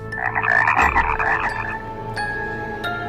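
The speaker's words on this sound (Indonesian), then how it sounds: "Beberapa kali kami juga mendengar suara katak di dekat tanaman yang menghiasi kafe ini." Frogs croak near decorative plants at a cafe facing a dark pine forest, a loud close burst of rapid rattling calls followed by quieter scattered croaks.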